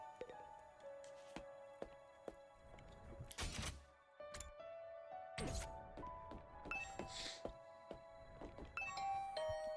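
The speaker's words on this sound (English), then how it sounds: "I rang the doorbell and could hear the bell ring on the other side of the door" A video game doorbell rings from the other side of a door, giving a soft ding-dong chime under faint background music, with a couple of muffled thunks nearby.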